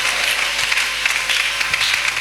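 A church congregation cheers and applauds as the preacher approaches, producing steady, dense clapping from many hands throughout, loud and close, with no clear speech over it.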